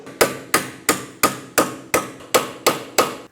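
Hammer blows on a small pry bar driving out a parking brake cable clip on a 2004-2008 Pontiac Grand Prix: nine sharp metallic strikes at a steady, even rhythm, loud and close with short ringing decays.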